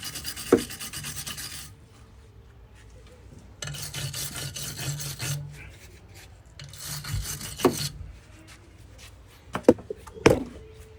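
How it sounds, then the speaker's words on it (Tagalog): Copper pipe being scrubbed clean before cutting: loud, raspy rubbing strokes in three long bursts with quieter gaps between, punctuated by a few sharp knocks and clicks near the end. "So, this time, linisin muna natin itong copper pipe."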